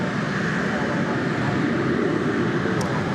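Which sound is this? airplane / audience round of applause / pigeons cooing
airplane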